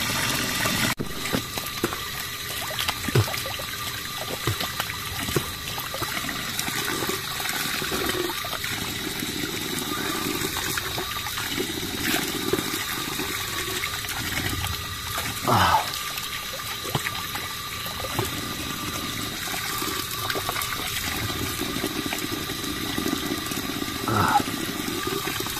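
Water pours and flows steadily outdoors, with a continuous rushing, trickling wash and occasional splashy surges, while people talk faintly in the background.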